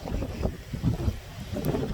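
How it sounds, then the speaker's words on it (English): Hard wind gusts through snowy winter woods during a snowstorm in Canada, producing a loud, close, rumbling buffeting against the microphone that swells and eases in irregular surges. "I don't know if you can see how windy it is out here, but it's blowing pretty hard."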